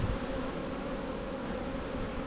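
Honey bees swarming around a beekeeper's legs during a hive inspection, a dense, close, continuous buzz with no talking.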